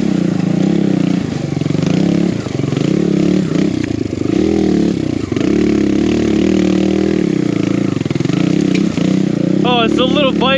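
A Kawasaki KLX140RF big bore dirt bike climbs an old abandoned logging road, its engine droning loud and close throughout with revs rising and falling, and a voice briefly heard at the end.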